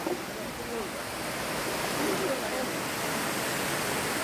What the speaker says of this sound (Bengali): এই যে জোরে আসতেছে, এখানে স্রোত আছে।